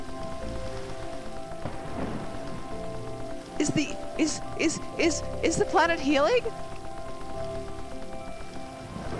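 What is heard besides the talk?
rain falling in the video game Terra Nil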